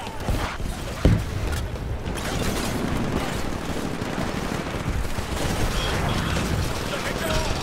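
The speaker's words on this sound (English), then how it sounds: "someone's shooting the shit out of me." Gunfire in the multiplayer shooter Titanfall, dense overlapping bursts with one sharp report near the start and a continuous roar of battle, while a player talks over it.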